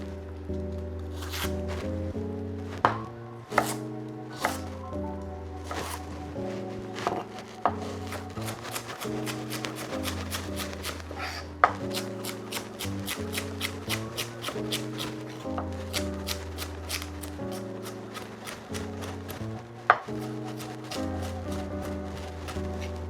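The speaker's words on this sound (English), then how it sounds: "So we're gonna start to chop like this too." A knife chops a single stick of celery on a board for a long stretch of fairly steady, crisp strokes, close and clear, with a few louder thuds, no talking.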